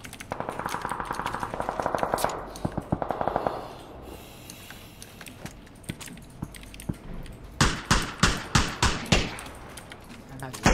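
Gunfire in PUBG, with scattered single shots and a later rapid run of sharp, loud cracks in quick succession, heard over game ambience while people talk.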